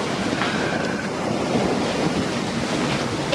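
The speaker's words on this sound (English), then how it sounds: "we've got, what, about 18 knots of wind?" Strong wind of about 18 knots rushes over a sailing boat off Greece during a Sahara dust storm, a loud, steady roar with water and hull wash and mic buffeting, no voices.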